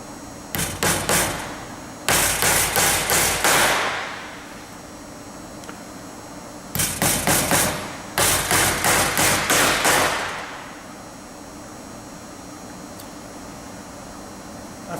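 Double-headed nails hammered through a template into a belt, in two separate bursts of rapid, sharp taps about five seconds apart, each burst of several close blows; nothing else is heard.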